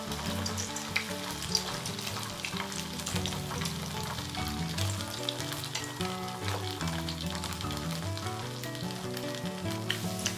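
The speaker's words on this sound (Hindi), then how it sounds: "और इस नाश्ते के पीस को हम तेल में डाल देंगे।" Wheat flour snack pieces fry in hot oil on a slow flame in a pan, giving a steady, dense sizzle with crackling bubbles that stays close and loud throughout, with no talking.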